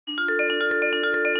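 Sampler arpeggio with each note's sample retriggered from the start before it finishes, producing a steady rapid sequence of bright pitched notes with sharp attacks, cutting each other off, loud and alone.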